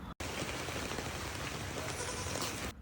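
Light drizzling rain makes a soft, even hiss throughout, broken only by a brief dropout near the start.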